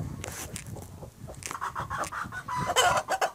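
Chickens clucking close by in quick, uneven bursts, growing busier and louder toward the end, with a crowing-like call mixed in.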